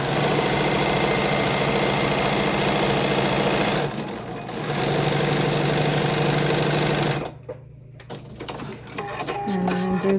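A sewing machine stitches along marked lines at the corners of quilt blocks, its steady, loud mechanical whir running continuously, pausing briefly, then resuming before dropping away into quieter handling noises.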